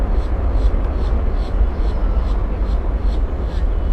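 A Lufthansa airliner on final approach at Miami International Airport, a steady broad jet roar throughout, with faint voices underneath.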